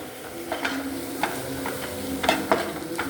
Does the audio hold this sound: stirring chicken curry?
yes